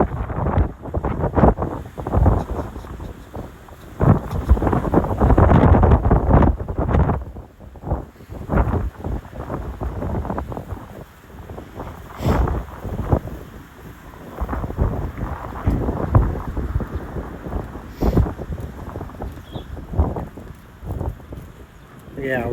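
Strong gusts of wind batter the microphone while someone walks outdoors, producing loud, rumbling buffeting that swells and eases in uneven surges, with a lull partway through before it picks up again.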